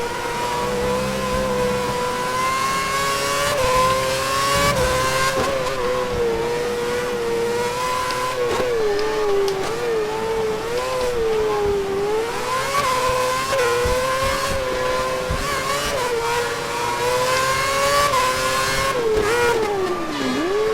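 A Formula 1 car in the F1 2011 video game at Catalunya runs a lap before entering the pits, its engine droning steadily loud with rising and falling pitch as it accelerates and eases off, with no talking.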